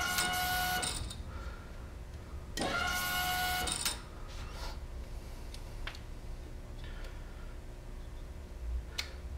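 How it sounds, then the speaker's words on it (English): A 5.0 Mustang fuel pump priming gives two short, close electric whirring buzzes, each about a second long, followed by faint clicks and handling noises in a quiet space. "you'll definitely be able to hear the fuel pump prime and everything else"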